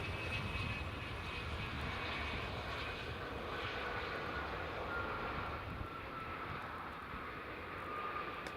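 A JetBlue airliner at Edinburgh Airport roars steadily with dense broadband engine noise, loud and close, holding constant throughout without a break.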